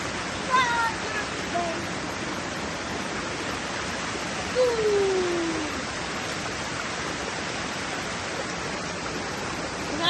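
Cambanog waterfall pours in a steady, broadband rush of falling water that fills the clip without a break, with a faint voice briefly heard over it.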